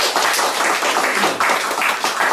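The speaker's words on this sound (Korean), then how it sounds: "모두 크게 환영의 박수 해주시겠습니다" A church congregation breaks into steady, dense applause to welcome newly baptized members after a first baptism service; the clapping is close and continuous throughout, with no voices over it.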